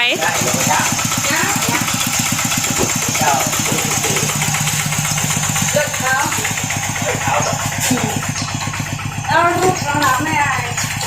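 A Thai e-taen farm vehicle runs under a rider, its engine chugging loudly and steadily with a rapid rhythmic knock throughout while people talk over it.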